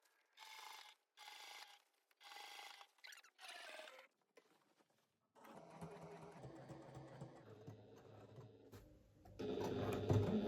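Sewing machine stitching a fabric pouch, starting with four short mechanical bursts separated by pauses, then a quiet gap and longer continuous whirring runs of reverse and forward stitching that grow louder near the end.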